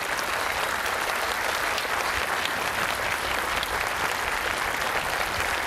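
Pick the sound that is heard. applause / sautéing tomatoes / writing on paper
applause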